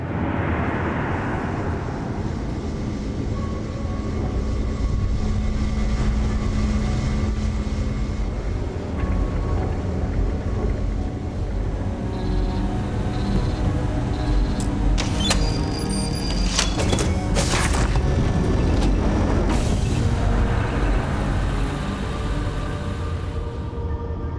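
A prototype spaceship lifts off in Starfield, a loud, steady engine roar with whining, rising mechanical tones and hissing bursts that continue for over twenty seconds.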